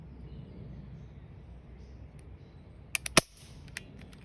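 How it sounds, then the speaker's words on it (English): An airsoft gun fires a few sharp, snapping shots at a mask, with three close together followed by a lone fainter crack against quiet background hiss. "So we're going to empty a couple shots on it."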